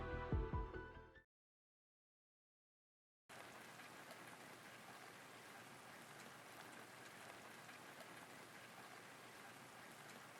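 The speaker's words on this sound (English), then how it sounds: "The rain lasted all day. It's now reduced to a faint drizzle, gradually slowing to a stop." Steady rain in the video game Arknights, a continuous soft hiss of drops on surfaces, faint and even after a short burst of music and a moment of silence.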